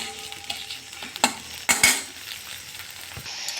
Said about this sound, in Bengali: পেঁয়াজটা কিন্তু খুব ভালো করে ভাজা হয়ে গেছে